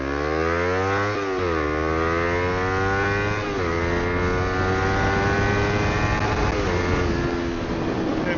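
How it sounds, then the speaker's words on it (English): A Kawasaki Ninja 300 two-cylinder motorcycle engine revved hard toward redline, loud and close, its pitch climbing in repeated surges with a sustained high buzzing drone, no talk over it. "Let's redline it, baby."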